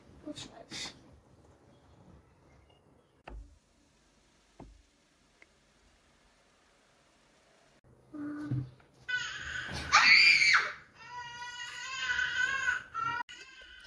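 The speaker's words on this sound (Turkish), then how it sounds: "YouTube'dan bebek ağlama sesi açtım şimdi binada bebek yok" A recording of a baby crying plays from a phone, with rising wails and whimpers after scattered ticks and knocks, while a person speaks nearby.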